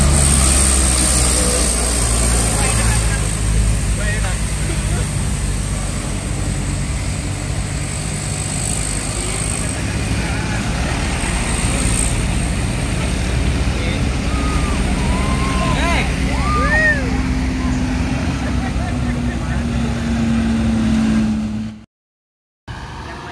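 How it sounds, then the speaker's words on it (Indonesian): A convoy of sand-loaded dump trucks grinding up a steep incline, a heavy low engine drone that rumbles steadily and then strains with a rising tone near the end before cutting out abruptly. "Dump truk bermuatan pasir."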